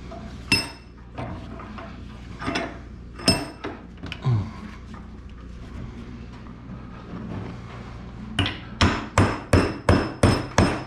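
Metal struck with a hammer on a makeshift anvil while shaping a dumpster hook: a few scattered sharp clanks early on, then a quick run of about eight loud, evenly spaced ringing blows near the end.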